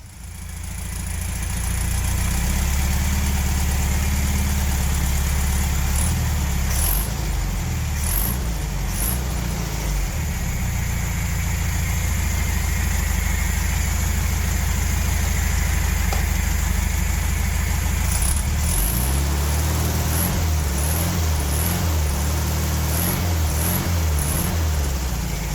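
Engine of a classic VW Beetle, parked since 1927, running steadily at a low rumbling idle, close and loud throughout with slight shifts in pitch and no talking.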